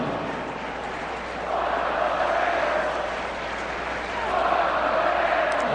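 Idaho Vandals fans chanting in a football stadium during a college game against Washington State, a swelling crowd roar that rises and falls in two rhythmic waves, with a commentator talking over it.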